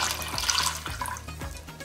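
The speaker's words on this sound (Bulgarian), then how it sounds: "Заливаме ребърцата с вода" Water is poured over pork ribs in a pot for a potato and mushroom stew. A continuous splashing, gurgling stream fills the pot, close and steady.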